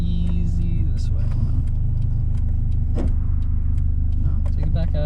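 A manual-transmission car pulls away in first gear, its engine a steady, loud low rumble throughout from inside the cabin, with faint clicks and voices talking over it.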